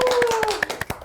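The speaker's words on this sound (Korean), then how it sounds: "박수." A few people clap hands briskly at close range, sharp claps in a quick, slightly uneven rhythm, while a voice trails off underneath.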